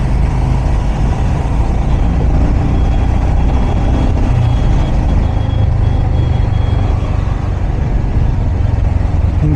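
Heavy road traffic at night in Hi-tech City, Financial District: a loud, steady roar of trucks, cars and buses, with engine rumble, air brake hiss and reversing beeps mixed into the dense flow.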